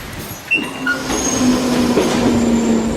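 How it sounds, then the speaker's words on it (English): A train rumbles steadily with a faint metallic wheel squeal running through it, close and continuous. "I've got to get on a train and actually go into London"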